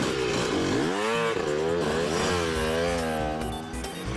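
A cartoon motorcycle engine revs steadily for about four seconds, its loud, continuous whine rising and falling in pitch as the bike rides along.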